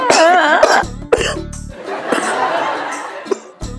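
Several harsh coughs in quick bursts, close and loud, with a voice speaking around them.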